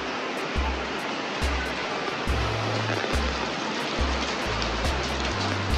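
Steady rain hisses heavily and continuously outdoors at a surplus truck lot, with faint low voices murmuring underneath now and then.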